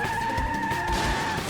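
An animated cartoon vehicle skids with failed brakes: a sustained squealing whine with steady tonal streaks, plus a few low thumps, loud and continuous throughout.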